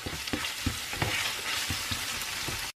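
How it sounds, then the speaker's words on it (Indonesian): Mie goreng rica rica ingredients with lime leaves and scallions sizzling in a pan, stirred with regular scraping strokes about every third of a second over a steady frying hiss, close, then cutting off abruptly. "Kita aduk-aduk."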